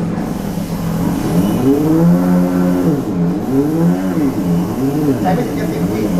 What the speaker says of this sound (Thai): มันเป็นเสียงที่เกิดจาก ลำโพงครับลำโพงสังเคราะห์เสียง